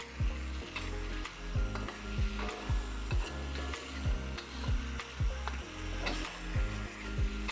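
Spices frying in a pan, a steady sizzle under rhythmic scraping as a spoon stirs against the pan about once a second, close and with no voices.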